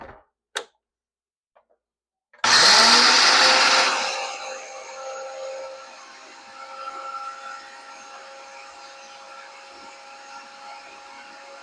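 Blender whirring as it grinds dried celery into celery salt, a loud burst that starts abruptly after a few small taps and then settles into a steady, quieter motor hum.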